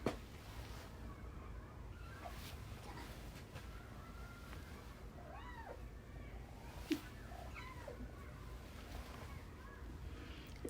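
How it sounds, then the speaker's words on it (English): Soft, faint squeaks and mews from a young kitten come and go in the background of a quiet room, several brief rising chirps spread across a steady low hum. "That little squeak in the background is my new kitten"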